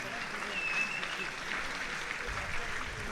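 Applause rises from a crowd at an amateur three-minute-round boxing bout, a steady dense patter of clapping filling the whole stretch at moderate loudness with no break.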